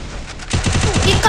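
A fast burst of gunfire from a mobile battle-royale shooter game on a Samsung phone, rapid repeated shots in a tight rhythm after a brief quieter lead-in, loud and close.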